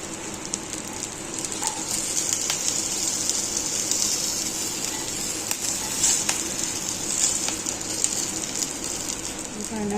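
Stuffed chillies (bharva mirchi) fry in a pan with a steady, soft sizzle. The hiss runs without a break for the whole stretch and holds at an even, moderate level.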